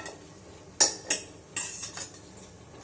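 Metal utensils clink against a pot or cup while tea is being strained, with about five sharp, close taps spaced unevenly over a few seconds in an otherwise quiet room.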